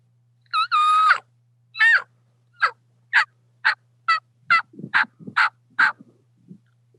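A diaphragm turkey call, played by mouth, imitates a turkey's yelp: a clear series of about ten short, sharp, raspy notes, starting with a longer note and then falling into an even rhythm, close and loud.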